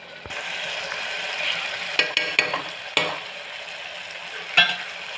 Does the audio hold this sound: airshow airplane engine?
no